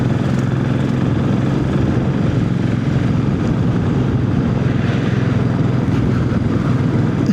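A Classic 500 motorcycle engine pulls steadily in top gear on an open road, a continuous loud low thrum with wind rush that holds constant throughout, no voices.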